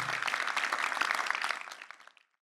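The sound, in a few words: applause for the panel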